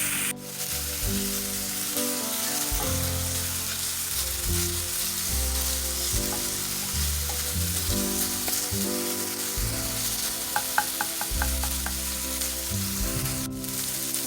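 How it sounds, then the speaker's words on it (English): Minced garlic and onion sauté in a hot pan, a steady loud sizzle and crackle with occasional stirring and a few light utensil clicks, no talk. "next you can add your minced garlic. Let that saute for about a minute in with the onion."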